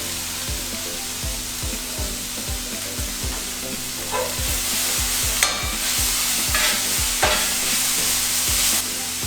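Pancake batter cooking in a hot pan, a loud continuous close sizzle with regular rhythmic scraping strokes of a utensil throughout, no talking.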